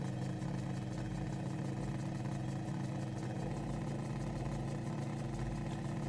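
A steady aircraft engine drone in a freeware plane in Microsoft Flight Simulator, a constant loud hum with a pulsing low throb and no breaks, no voices.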